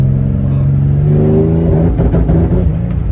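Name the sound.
Nissan G35 Coupe engine revving with anti-lag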